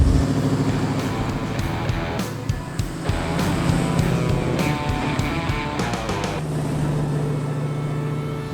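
A car fitted with a FAST EZ-Fuel EFI system drives along, its engine droning steadily with shifting revs and road rumble heard from inside, with no one talking.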